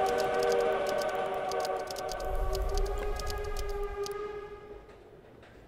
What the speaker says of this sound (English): Train. Choo-choo, chapter three.